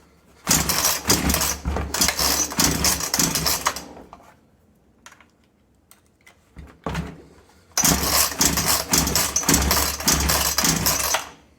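A Chinese chainsaw engine starts and runs loudly for a few seconds, cuts out into near silence with faint handling noises, then roars back up, running steadily at high revs to the end.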